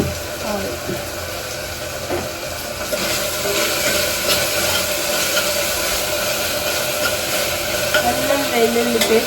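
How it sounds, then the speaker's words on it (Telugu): Ginger garlic paste frying in oil in a small pressure cooker, a steady broadband sizzle with occasional scraping stir sounds, fairly close and continuous throughout. "అల్లం వెల్లుల్లి పేస్ట్ బాగా వేగాలి, లేకపోతే పచ్చి వాసన వస్తుంది."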